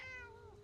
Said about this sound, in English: Oh, there is a kitty.